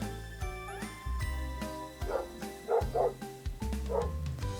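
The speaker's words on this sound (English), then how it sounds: "Sorry if you hear the dogs barking." A dog barks in a house in several short bursts, sharp and fairly close over a tonal background, with a faint jingling between barks.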